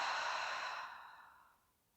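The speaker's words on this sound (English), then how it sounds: "One more inhale. And exhale." A deep, breathy exhale released slowly through the mouth during a yin yoga session, loud at first and tapering off into quiet over about two seconds, with no talking.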